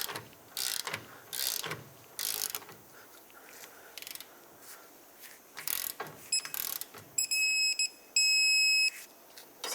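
A torque wrench on a rear shock absorber bolt of a 2007-2010 Chrysler Sebring gives short bursts of ratcheting clicks with pauses between strokes, then several sharp electronic beeps near the end, with no talking.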